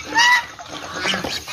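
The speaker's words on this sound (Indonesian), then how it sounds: "koleksi angsa di kandang catur unggas ini jadi 1 dengan entok" Geese and Muscovy ducks in a poultry pen give a loud nasal honk up close, followed by softer, scattered honking and fowl chatter.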